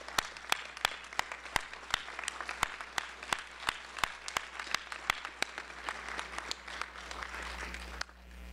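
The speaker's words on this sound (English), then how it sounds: "give them a round of applause" A seated ceremony crowd gives sustained applause at a medical school white coat ceremony, many hands clapping in a fairly soft, distant hall wash punctuated by sharp nearby claps, fading out near the end.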